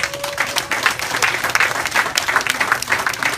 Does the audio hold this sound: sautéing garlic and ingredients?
no